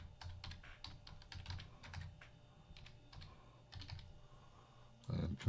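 Fingers type a password on a computer keyboard in quick, soft bursts of key clicks with short pauses, fairly faint and close, ending in a slightly heavier press.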